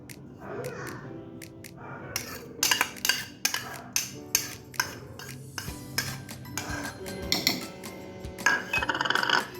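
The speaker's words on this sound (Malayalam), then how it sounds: "നമുക്ക് മിക്സിയുടെ ജാറിലേക്ക് ആദ്യം തന്നെ ഈ ഓട്സ് ചേർത്ത് കൊടുക്കാം" Soaked oats are spooned into a mixer grinder jar for an oats smoothie, giving a close series of sharp metallic clinks and scrapes of a spoon against the jar, irregular and separated by brief pauses.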